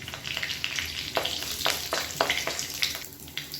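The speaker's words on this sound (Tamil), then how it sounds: "இது எல்லாமே நல்லா பொரியணும்." Mustard seeds, fenugreek, dried chillies and curry leaves fry in hot oil for a rasam, a close, steady sizzle broken by sharp pops and crackles.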